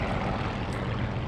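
A propeller plane's engine in War Thunder drones loud and constant at close range, a dense low roar with no pauses.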